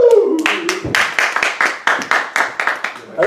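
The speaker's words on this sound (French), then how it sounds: "on va faire un tonnerre d'applaudissements pour nos animateurs" Hands clapping for the hosts at a French welcome reception, a short burst of distinct, close claps in an uneven rhythm after a cheer.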